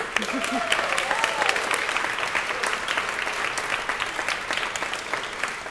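At a journalism and broadcast awards ceremony, a hall full of people applauds steadily for several seconds, the dense clapping close and continuous, with a few voices briefly audible near the start.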